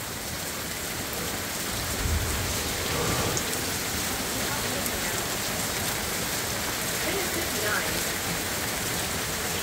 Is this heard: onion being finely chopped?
no